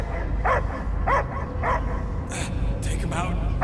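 A dog in the video game Guardians of the Galaxy gives a series of short, evenly spaced barks and yips over a low rumbling background, followed by a couple of sharper sounds.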